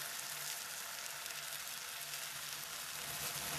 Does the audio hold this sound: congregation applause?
no